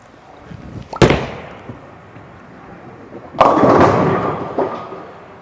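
Bowling balls rolled down the lane crash into the pins twice, each a loud sudden clatter fading into a rumble, with some background noise between the impacts.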